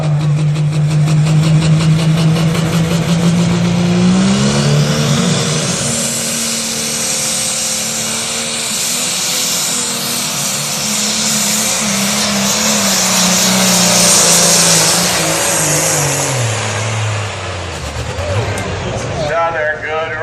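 A brand-new pulling tractor roars loud and close through a whole run, its engine holding a steady heavy drone that rises slightly and then winds down near the end, with an announcer's voice partly under the noise.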